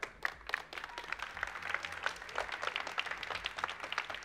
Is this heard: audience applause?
yes